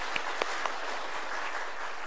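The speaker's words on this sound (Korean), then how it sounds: "다 같이 우리 박수로 축하를 드리겠습니다." An audience applauding in a church during a special New Year dawn prayer service, a steady moderate wash of many hands clapping with a few sharper claps standing out.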